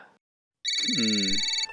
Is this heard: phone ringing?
yes